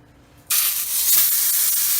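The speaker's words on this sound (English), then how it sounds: "We're just gonna get a nice sear on this." Meat hits hot, shimmering, lightly smoking oil in a pan with a sudden loud, sustained sizzling hiss, close up after a brief quiet moment.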